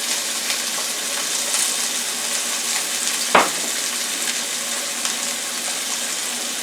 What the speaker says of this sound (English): I'm going to put the onions and scallions in first. And I'm going to let that cook until they get soft.